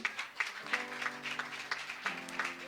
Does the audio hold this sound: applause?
yes